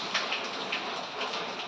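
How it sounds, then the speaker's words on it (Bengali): Steady rainfall hissing outside, a continuous soft wash of drops with no voices, ending in a brief louder knock. "দেখো বাইরে বৃষ্টির কি শব্দ হচ্ছে"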